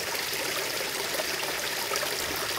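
Spring water flows and trickles steadily close by, a continuous bright rushing wash with no voices.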